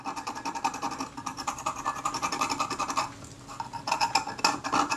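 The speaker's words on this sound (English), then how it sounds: "I'm really digging the scalpel in there, cutting into the aluminium" Scalpel blade scraping and digging at hard adhesive on the aluminium body of a Retina Reflex S camera, a close, steady rasping scratch in rapid strokes with a brief lull before scraping resumes.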